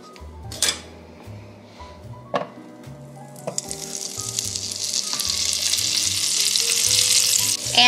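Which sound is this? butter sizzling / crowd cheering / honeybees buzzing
butter sizzling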